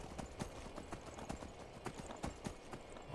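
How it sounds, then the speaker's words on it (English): Horse hooves clip-clop in a steady, even rhythm in the video game Skyrim, fairly faint and quiet, with sharp regular hoofbeats at a walking pace. "Jump on our horse."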